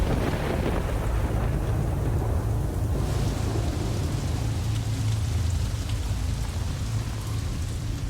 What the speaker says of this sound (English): After 8 days of solid rain.